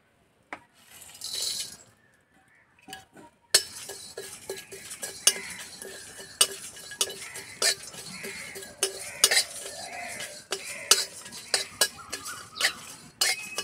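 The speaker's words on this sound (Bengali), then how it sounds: "প্রথমে আমি গোটা মশলা ভেজে নেব" Whole cumin, coriander, fennel, two dried chillies, two cardamom pods, a cinnamon piece and peppercorns being dry-roasted in a pan: sharp scattered clinks and scrapes of stirring after a quiet start, irregular and close, with faint sizzling between.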